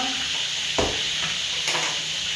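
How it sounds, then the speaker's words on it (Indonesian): Soup cooks in a pot with a soft steady sizzle, broken by two short scraping stirs, quiet and close with no talking. "Jadi masak ini masak supnya."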